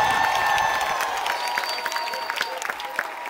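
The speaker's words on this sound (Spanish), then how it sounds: "Es un aplauso para Oscar Boar." Crowd applause with some cheering at a Paranda di Fin di Aña year-end concert in Curaçao, a dense wash of clapping under a sustained tone, gradually easing off while a few claps stand out near the end.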